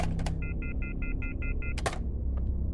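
Phone dialing in a horror video game: a run of seven evenly spaced keypad beeps between a couple of clunks, then a louder click and a low hum as the call goes unanswered.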